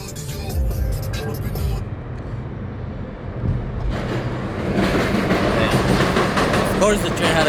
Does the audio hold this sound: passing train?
yes